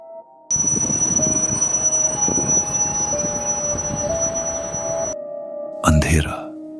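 An animated train grinds to a halt in a dark, dense forest between two stations, with a long rumbling roll and squealing wheels, then a short sharp metallic burst after it falls quiet.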